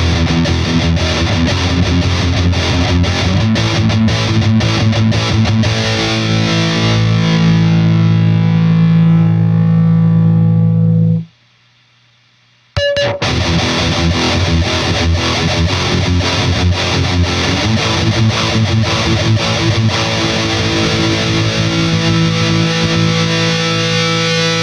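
Heavily distorted electric guitar chugging through a Peavey high-gain amp with crunch and squeal, sustained and loud, cutting out briefly for a second of silence before resuming just as thick.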